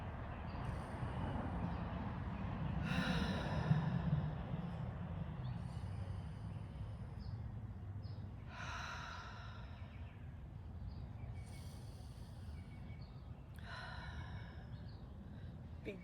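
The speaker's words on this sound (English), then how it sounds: "So let's breathe." Slow deep breaths in a calm setting, several long, airy inhales and exhales repeating about every five seconds over a faint steady background hum.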